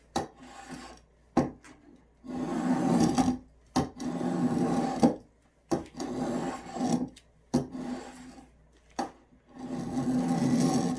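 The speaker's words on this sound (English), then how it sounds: "Just get a scrap piece of wood and just start shaving." A draw knife shaves a scrap piece of wood during a guitar build, with repeated rasping strokes of about a second each, separated by short pauses, close and fairly loud.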